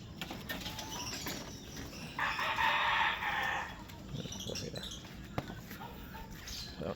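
Hens and chickens cluck in a backyard coop during a storm, with one bright crowing burst in the middle over soft rustling, faint background noise and occasional speech.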